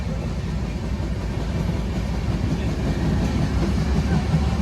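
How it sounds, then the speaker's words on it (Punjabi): A passenger train runs along the rails in India's Punjab region, giving a steady, close low rumble from inside the carriage with faint rhythmic rattling and no talk. "ਪਹਿਲੀ ਵਾਰੀ ਜ਼ਿੰਦਗੀ 'ਚ ਟ੍ਰੇਨ ਦਾ ਸਫ਼ਰ"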